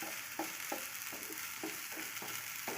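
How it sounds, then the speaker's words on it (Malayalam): Mushrooms fry in a pan with a steady bright sizzle while a spoon scrapes through them in regular strokes about twice a second, near and without voices. "ഇത് ഇടയ്ക്കിടയ്ക്ക് ഇളക്കി കൊടുക്കണം,"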